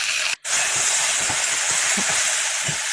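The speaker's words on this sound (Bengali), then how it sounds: "পেঁয়াজ টমেটোটা দিয়ে এর সাথে একটু ভালো করে ভাজবো" Onion and tomato sizzling in a hot pan give a loud, steady frying hiss that breaks off briefly near the start and then carries on with faint low crackles underneath.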